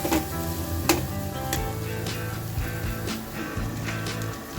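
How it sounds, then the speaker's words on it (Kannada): Grated coconut fries in a pan for Mangalore-style chicken sukka, giving a continuous close sizzle broken by occasional sharp scrapes and knocks of a spoon against the pan. "ಈ ತೆಂಗಿನಕಾಯಿ ತುರಿಯನ್ನು ಫ್ರೈ ಮಾಡ್ತಿದ್ದೇನೆ."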